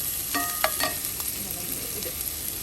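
Sliced coconut and shallots fry in coconut oil in a pan, a steady bright sizzle with a few clinks and stirring scrapes near the start, close and constant with no talking.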